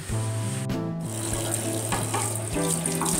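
A kitchen tap runs in a steady, close hiss while mawang fruit is rinsed under the flowing water, with a few faint splashes and knocks over the constant stream.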